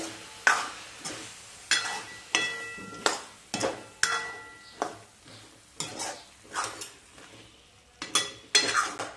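Eggplant and potato pieces are sautéed for a Maharashtrian vangi-batata bhaji, a spoon scraping and clanking against the pan in repeated strokes over a soft sizzle, close and fairly quiet, with no talking.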